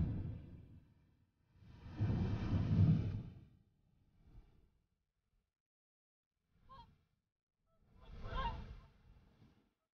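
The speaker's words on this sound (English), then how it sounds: "Hooper swans." Whooper swans calling at Loch Gruinart on Islay in early autumn, two loud bursts of honking and bugling from a flock, with a few shorter, fainter calls between and quiet gaps.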